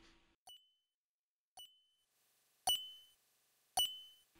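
A faint repeating beep in the Sega CD game Snatcher: four short tonal pings with a ringing tail, spaced about a second apart, the last two louder, over near silence.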